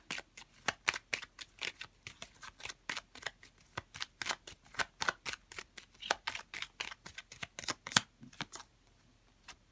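Tarot cards being shuffled close up, a rapid run of crisp riffling slaps and flicks in uneven bursts, fairly quiet with no voices over them.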